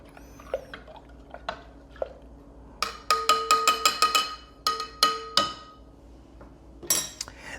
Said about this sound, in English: And then, of course, stir to uniformly spread the microbes throughout the mixture